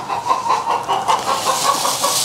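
A hen clucks in a small backyard coop built for a couple of chickens, giving a steady run of soft, rhythmic clucks close by with no talking.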